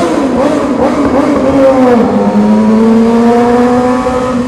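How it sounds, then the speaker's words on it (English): A motorbike engine revving loudly in a tunnel, a continuous close roar that swells and then settles into a droning pitch, echoing off the walls. "You guys want to hear the bike in the tunnel?"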